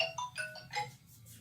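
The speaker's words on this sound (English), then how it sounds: "I'm getting a phone call." An incoming call's phone ringtone plays a quick, bright run of chiming electronic notes, fairly faint and close, with no talking.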